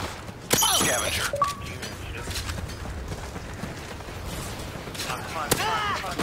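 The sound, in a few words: gunfire in a video game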